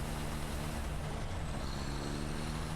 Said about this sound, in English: I heard something that sounded like a truck